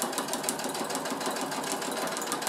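A sewing machine stitches a fabric multi-pocket pouch in a steady, continuous whirr that holds close and even for the whole stretch, with no talk over it.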